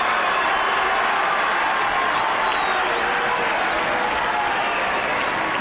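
A tennis crowd at the Foro Italico in Rome during a Nadal–Federer final roars with dense, loud, continuous cheering and applause that fills the whole stretch without a break.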